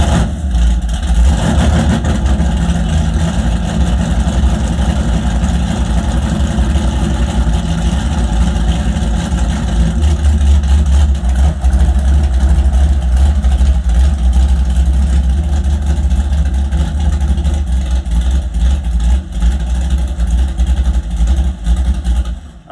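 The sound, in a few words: Camaro engine running at idle after timing set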